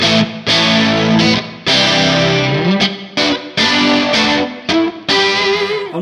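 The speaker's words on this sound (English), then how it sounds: "So you get the nice chorus effect" An electric guitar runs through a Neunaber Immerse Reverberator pedal on its chorus setting, playing loud, shimmering strummed chords in bursts with brief gaps between them, and no voices.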